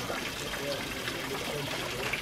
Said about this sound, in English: Is the water coming through.